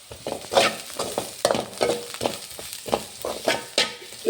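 Stirring and frying in a used pan kept for frying papads, with repeated scraping strokes in a steady rhythm over a soft sizzle, close and moderately loud.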